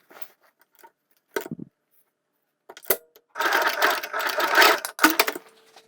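A sewing machine stitching the side seams of a woven dolman dress, with scattered clicks and handling noises first, then a sustained whirring run of about two seconds, stopping and ending on a final short burst.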